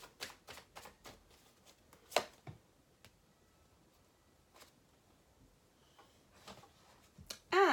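Romance angel oracle cards being shuffled, a run of soft, quick riffling flicks with scattered louder slaps and a sharper burst at the end, close by in a quiet room.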